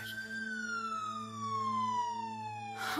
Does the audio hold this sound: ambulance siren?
yes